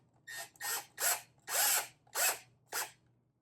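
Power drill twisting wires held in its chuck, six short bursts of motor whir with spin-up and spin-down, separated by brief pauses and fairly close, with no talking.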